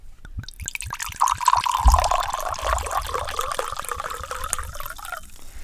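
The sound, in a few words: second pour of white wine into a glass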